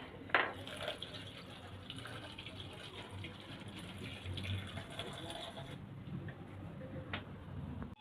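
Flattened rice (poha) being rinsed with water in a bowl, a soft continuous wash of water with a couple of sharp knocks against the bowl near the start and again near the end, no talking.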